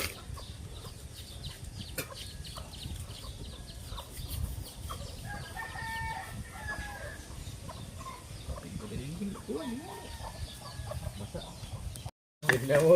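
Gamecocks at a Philippine cockfight cluck and crow in scattered bursts over a busy crowd background, with people talking throughout and a brief dropout near the end.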